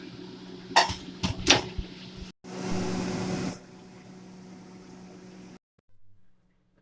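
Clattering metal as a tray of homemade flatbreads goes into an oven: a few sharp clanks and scrapes, then a steady whooshing hum of the oven that stops with a final soft clunk.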